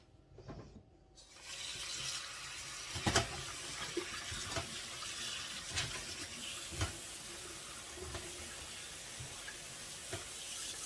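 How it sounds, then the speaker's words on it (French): Rose petals are rinsed in cold running water, a steady faucet splash with occasional louder sloshes and drips as the petals are handled, no voices. "on les lave à l'eau froide, bien sûr, hein, pas de l'eau chaude"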